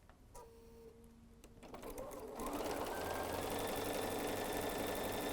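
A home sewing machine stitches a quilt, its motor whirring steadily and growing louder and denser partway through, running continuously with no talking.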